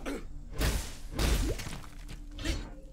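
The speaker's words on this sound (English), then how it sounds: "When I freeze an enemy and break them, the shattering sound, it's just so nice to hear." In the video game Path of Exile, frozen enemies break apart with sharp icy shattering bursts, three loud crunching impacts with swooshing tails spaced about a second apart, no talk.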